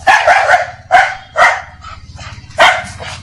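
A dog barks loudly and close by in a burst of four sharp barks, with a steady low hum underneath.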